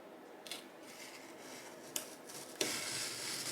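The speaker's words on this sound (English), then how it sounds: "I got my razor blade here and I'm just going to cut out" A razor blade cuts around the inside of a frame for a diamond painting, with soft scraping strokes and a few faint ticks and clicks against a quiet background.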